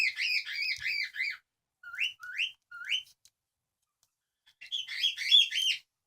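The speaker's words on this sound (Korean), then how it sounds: "그리고 앵무새는 너무 시끄럽죠." Parrots chirp and squawk in quick bursts of shrill, repeated calls, with short pauses between phrases; close and fairly loud.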